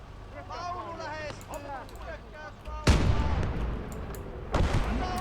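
Artillery and gunfire in the war video game Motherland: a voice talks at first, then a loud close cannon blast booms with a rumbling tail, followed by a second heavy shot near the end.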